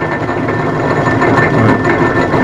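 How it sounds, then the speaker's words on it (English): An old metal lathe with a countershaft runs at its slowest speed with the back gear engaged, making a steady, fairly loud mechanical drone with a rough, noisy gear hum throughout. "I just wanted to show that is its very slowest speed running with the back gear on"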